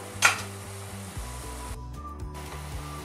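Garlic sizzles steadily in a pan with a splash of white wine, a close, even frying hiss with a short louder burst near the start and no voices.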